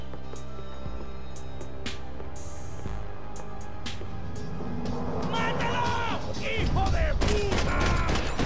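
An Uzi-like gun fires in bursts in the Max Payne 3 video game, with dense crackling gunfire and ricochet-like whines that grow louder and busier toward the end, under a steady game soundscape.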